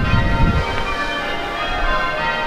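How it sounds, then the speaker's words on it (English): Church bells ring on a Sunday morning, a steady sustained peal of overlapping tones filling the whole moment, loud and continuous with no talking. "Last time we were here on a Sunday morning with these bells going like this"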